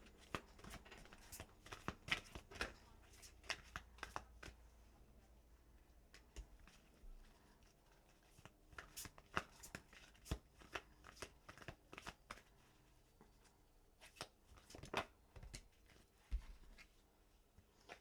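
Tarot cards being shuffled and handled close up, a long run of quick, crisp riffles and slaps with brief pauses between bursts, quiet and uninterrupted by talk.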